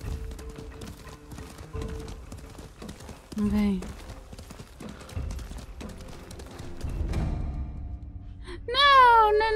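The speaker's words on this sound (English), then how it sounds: "I had to get on my horse." A horse gallops in the video game Ghost of Tsushima, with rhythmic hoof clip-clops under game music and effects, a whinny-like cry near the end, and someone speaking briefly.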